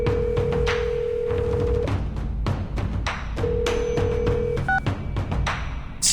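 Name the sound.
telephone being dialed, from the video game Reverse: 1999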